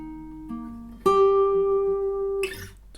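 Acoustic guitar plays a short phrase of a film theme, with a few plucked notes leading to a long sustained note held with steady finger vibrato, close and clear with no talking.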